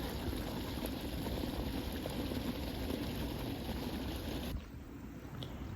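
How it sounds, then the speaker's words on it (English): Steady broadband rush of water fills the background, continuous and fairly loud like flowing or splashing water, dropping slightly in level near the end; no voices present. "I felt like the sound of water brings me some coolness."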